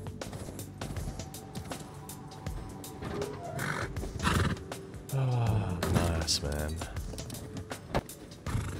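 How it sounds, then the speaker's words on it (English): A horse gallops in the survival video game Rust, with hoofbeats, neighs and snorts amid other game sounds, while a voice talks over the action. "This horse is so slow."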